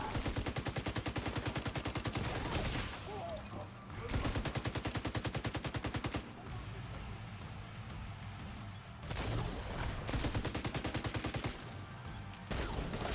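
Rapid automatic gunfire from a shooter game, The Division 2, rattles in long loud bursts separated by brief pauses, with one burst after another and no talking over it.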